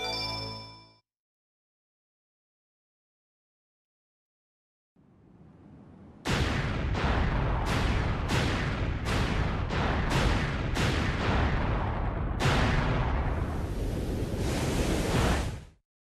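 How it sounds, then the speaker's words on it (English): Explosion in the video game Sonic Adventure 2: Battle, starting with a short tone, then silence, a rising rumble, and a long loud roaring blast broken by repeated bursts, fading out at the end. "I'm just gonna assume everyone made it out alive from that explosion."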